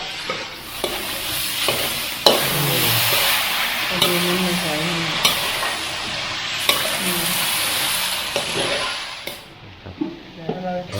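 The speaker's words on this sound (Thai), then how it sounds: "ผัดนานนะผัดจนเหลืองแล้วก็แล้วค่อยใส่" Ingredients for fish maw soup are stir-fried in a pan until golden, with a steady sizzle and repeated scraping stirs and clinks of a utensil against the pan, while people talk nearby.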